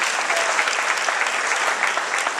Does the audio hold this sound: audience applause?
yes